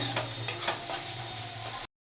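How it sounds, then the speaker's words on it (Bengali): Washed raw rice fries in an oiled, spiced pan with a steady close sizzle, while a spatula scrapes and stirs it in a few quick strokes before the sound stops abruptly. "চালগুলো দিয়ে একটু ভালো করে ভেজে নিতে হবে"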